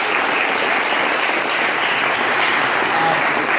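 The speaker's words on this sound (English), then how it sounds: "So give yourselves a round of applause." A roomful of people at a mixed martial arts gym's holiday party clap together in dense, steady applause, loud and continuous throughout, with no break or fade.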